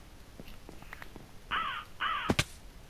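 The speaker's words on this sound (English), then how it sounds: "Oh, crow." Cawing from a crow in Minecraft: two harsh caws in quick succession, followed by sharp clicks and soft game sounds, with no talk.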